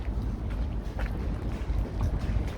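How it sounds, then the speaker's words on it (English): Steady low wind rumble buffeting the microphone on a chilly morning in Stockholm, Sweden, constant and fairly loud, with a few faint higher rustles; no voices. "it's a bit windy and chilly."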